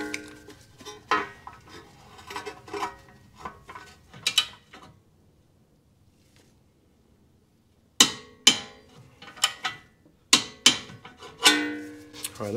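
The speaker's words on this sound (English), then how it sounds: "I'm gonna tighten the lower ball joint, and I've set my torque wrench to 50 foot-pounds of torque" A torque wrench ratchets as a lower ball joint on a budget Honda Civic is tightened to 50 foot-pounds. It gives bursts of sharp, close metallic clicks, goes quiet for a few seconds, then returns in louder, spaced clicks.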